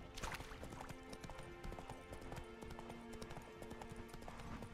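Hooves of Roach, the horse in The Witcher 3: Wild Hunt, clip-clopping in a quick steady rhythm, quiet and fairly close, over a low game ambience.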